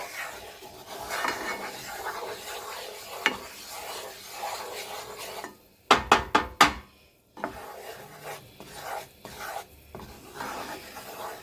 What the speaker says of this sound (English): keep stirring it. That way it won't burn.